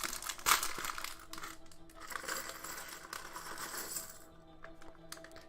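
Small plastic bags of LEGO pieces are handled close by, giving soft crinkling and rustling with occasional sharper clicks of parts shifting inside, fairly quiet and uneven.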